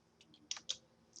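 A few quick computer keyboard keystrokes, clicking close and fairly soft in a quiet room, with two sharper taps near the middle and a final key press at the end.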